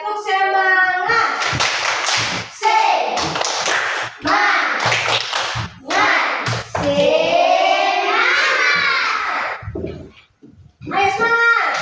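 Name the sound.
classroom children doing a clapping routine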